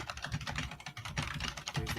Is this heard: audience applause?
no